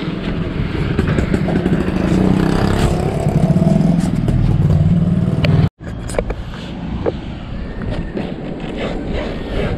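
Riding a motorcycle at full throttle, with a loud, steady engine drone and rushing wind close to the microphone, briefly cutting out near the middle before the rough roar resumes.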